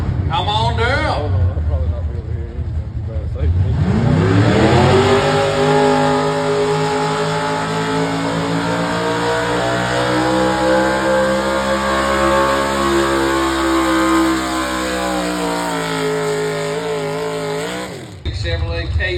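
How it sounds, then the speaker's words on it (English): A 1992 Chevrolet 3500 truck at a truck and tractor pull revs loudly, its engine climbing into a sustained high roar and holding for many seconds before cutting off near the end. "1992 Chevrolet 3500."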